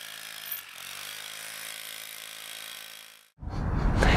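An ordinary hammer drill chiselling a concrete floor and foundations while a brick shed is torn down gives a steady, droning motor whine that stops abruptly near the end, followed by a burst of harsh broadband noise.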